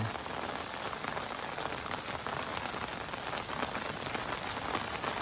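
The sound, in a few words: rain falling on a surface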